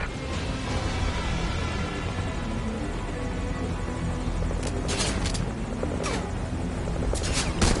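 A military helicopter in the video game Metal Gear Solid Ground Zeroes whirs steadily up close, a dense rotor and engine rumble throughout with a few bright crackling bursts near the end, no talk.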